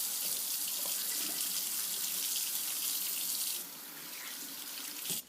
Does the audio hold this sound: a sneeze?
no